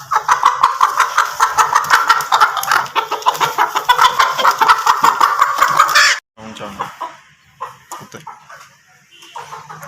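An Aseel Sindhi rooster, white in colour and of the Mianwali type, clucks and calls repeatedly at close range in a busy, dense stretch, then the sound drops to quieter scattered clucks with faint background noise.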